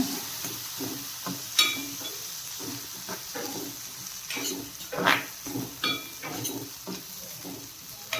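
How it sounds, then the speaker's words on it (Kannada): Ingredients for rava idli frying in a pan, a steady close sizzle with repeated spoon stirring and scraping against the pan, moderately loud and without speech. "ಚೆನ್ನಾಗಿ ಫ್ರೈ ಮಾಡ್ಕೊಳ್ಳೋಣ"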